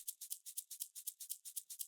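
A shaker rattles in a quick, even rhythm, each soft hissy swish evenly spaced, played alone and fairly quiet.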